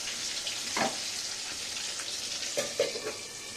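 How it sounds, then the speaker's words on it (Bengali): Boal fish fries in hot oil in a covered pan, giving a steady, close sizzle with a few sharp pops and spits and no talking. "মাছ ভাজার সময় যেহেতু খুব ফাটে তাই আমি এটা ঢাকা দিয়ে দিয়ে ভাজি"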